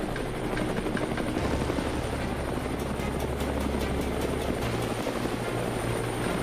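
Helicopter flying over Texas countryside during a wild hog hunt, a steady continuous rotor thump and engine drone held at constant loudness throughout, without voices.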